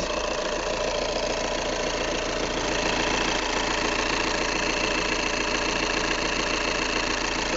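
Steady, even idle of a VW Tiguan TDI diesel engine heard up close, a continuous mechanical clatter and hum with no revving or pauses.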